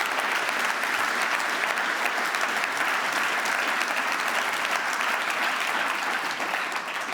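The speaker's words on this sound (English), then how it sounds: "you deserve a big round of applause of this audience" A large audience at the St. Gallen Symposium applauds for several seconds, with dense, even clapping that holds steady throughout and no talk over it.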